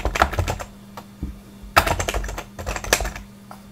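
Keystrokes on a Mac keyboard while a new folder name is typed, a quick close run of clicky taps with a couple of short pauses and a heavier key press midway.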